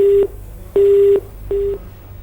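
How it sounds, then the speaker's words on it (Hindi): Telephone line tones as a call disconnects, three loud, evenly spaced beeps of a busy signal, close and alone with no talking. "चलिए फोन कट गया।"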